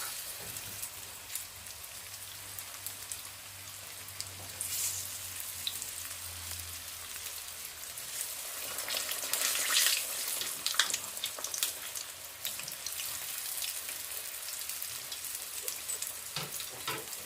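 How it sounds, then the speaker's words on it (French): Small vegetable nems deep-fry in a pan of hot oil, a steady crackling sizzle with fine bubbling pops that swells slightly midway, close and continuous with no voices. "Donc je fais qu'un bain de cuisson pour les petits nems."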